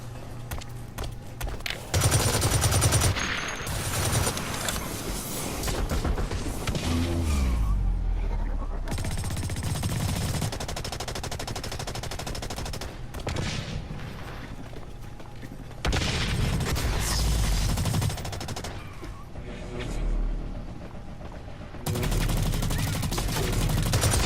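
Assault rifle fire in the shooter game Blacklight: Retribution on PS4, dense bursts of rapid automatic shots with booming impacts, loud and continuous with brief lulls between firefights.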